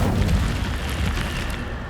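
Incendio fire spell cast in Hogwarts Legacy, a steady, dense roaring whoosh of magical flame lasting about two seconds, loud and even with no talk over it.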